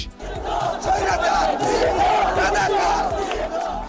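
A large crowd cheers and chants in celebration outside Hotel Intercontinental, a dense, loud roar of many voices held for the whole stretch.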